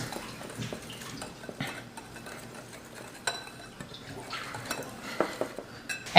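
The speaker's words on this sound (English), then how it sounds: "And just give this to a stir with a wire whisk." A wire whisk stirs flour with baking powder and salt in a bowl, giving soft scraping swishes and scattered light clinks of metal against the bowl, quiet and irregular with no voices.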